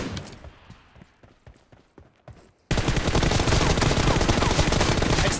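Rapid M416 rifle fire rattles through a PUBG Mobile team deathmatch, first in separated sharp bursts and then as a dense, loud continuous barrage of automatic shots.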